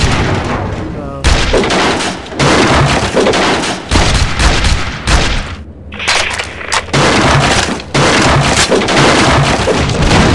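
Gunfire in the zombie shooter game SAS Zombie Assault 4, with loud, dense shots and bursts repeating through a busy game soundscape, broken by brief pauses.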